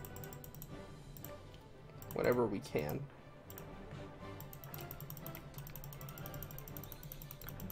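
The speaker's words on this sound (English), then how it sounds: "Apologies for the clicking noise." Computer mouse clicks while playing Hearts of Iron 4 with the US States mod, a quiet scatter of clicks spread through the clip, with a voice speaking briefly over them.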